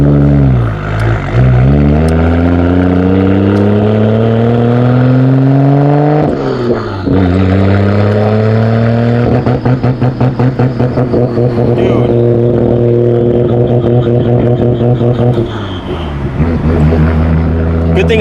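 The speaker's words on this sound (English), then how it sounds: "It's like sputtering so bad the minute I get on throttle." A Nissan R32 GTR engine sputtering and hesitating under throttle, loud and close: a rough, droning note that rises and falls in uneven surges, breaking up and stuttering as the revs climb, with brief dips and recoveries.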